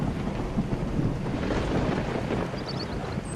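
Heavy rain pouring down with rumbling thunder, a dense, steady hiss of downpour mixed with low rolling rumbles and gusty wind, loud and continuous throughout.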